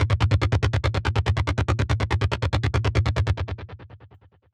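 Roland SH-101 style synth arpeggio in Logic Pro, a rapid, steady stream of bright pulsing notes at an even rhythm that fades out over the final second, with no voices.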